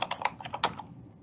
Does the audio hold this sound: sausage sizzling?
no